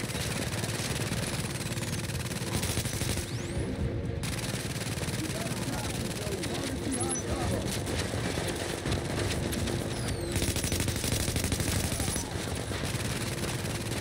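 Automated turret in The Division at the Hudson Refugee Camp firing steady rapid bursts, mid-distance, over continuous background combat noise.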